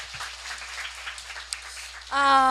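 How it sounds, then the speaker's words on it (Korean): An audience at a business lecture gives applause of thanks to the lecturer Kim Yong-hoon, a fairly faint, thin patter of clapping in a room, ending with a louder, steady sustained tone. "우리 김용훈 선생님께 감사의 박수 부탁드립니다"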